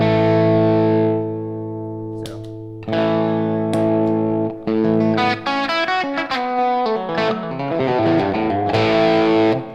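Electric guitar played through a boost pedal pushing an amplifier's front end, a sustained chord ringing out, then picked notes and chords with a lightly driven, saturated tone, close and loud.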